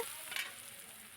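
Green chillies, salt and turmeric stirred in a frying pan, giving a soft steady sizzle with a brief scraping stir near the middle, close and alone without voices.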